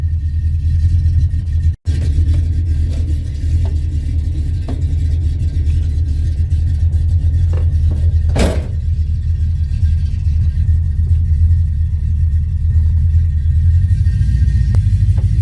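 A 1979 AMC AMX with its AMC 304 V8 running, a steady, loud low rumble that holds even throughout, broken by one brief dropout and a short sharp noise partway through.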